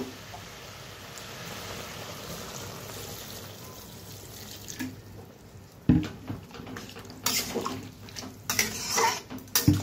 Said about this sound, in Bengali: তো অল্প পরিমাণে জল দিয়ে দেব। দিয়ে দিই জল।